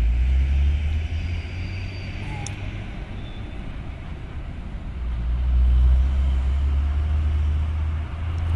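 Private cars and other vehicles idle and pass at the entrance to Bakauheni port, a continuous low engine rumble that swells and eases, with a faint distant hiss and no clear talk.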